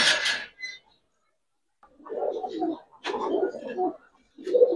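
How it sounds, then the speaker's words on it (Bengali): Brown-necked pigeons cooing at close range, several low throaty coos in short bursts separated by pauses, with a brief sharp rustle at the start. "খয়রা গলা কবুতর ভাই, চট বানের"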